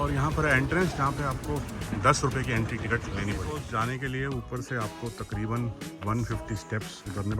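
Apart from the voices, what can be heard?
No everyday noises stand out.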